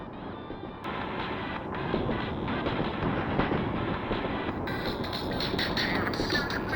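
A train ride in Splatoon 3 rumbles with steady, dense rolling noise and a continuous rattle, loud and unbroken throughout, with a brighter hiss joining near the end.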